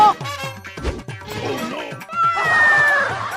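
A cartoonish cat meows several times in quick succession, with bright, close yowling tones and a brief clatter near the start.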